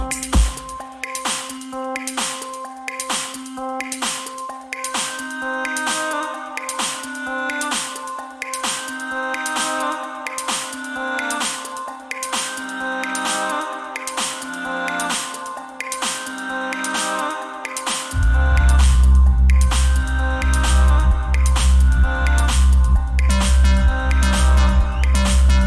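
Rapid, loud beatbox routine by AVH from a Grand Beatbox Battle, with a dense steady pulse of snare- and hi-hat-like hits over tonal lines; heavy booming bass enters near the end and fills out the low end.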